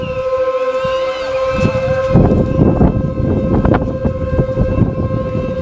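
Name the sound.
mosque siren announcing the Ramadan moon sighting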